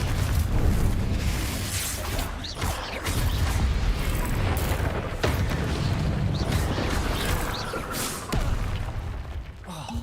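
Repeated Confringo blasting-spell explosions in Hogwarts Legacy, a dense run of loud booming bursts with rumbling low end and crackling debris, sustained for the whole stretch with brief dips between blasts.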